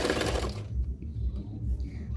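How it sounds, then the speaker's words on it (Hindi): A sewing machine stitches a folded fabric edge on a blouse, a short rapid mechanical burst followed by a quieter low rhythmic hum. "एक्स्ट्रा फैब्रिक को किनारे में इसी तरह से फोल्ड करते हुए सिलाई कर लूँगी प्लेट डालने के लिए।"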